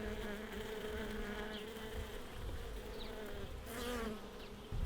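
Honeybees busy at a hive while carrying pollen make a dense, continuous buzzing drone, close and steady, with individual bees whining briefly past nearer the microphone.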